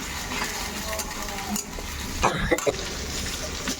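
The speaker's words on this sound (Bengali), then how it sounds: "এবার যা যা গুঁড়ো মশলা দেওয়ার সেগুলো দিয়ে একটু টমেটোটা গলা পর্যন্ত কষিয়ে নেব" Ground spices sizzle and fry with chopped tomato and ginger in a pan, a steady crackle broken by a few clattering stirs against the metal, close and fairly loud with no talking.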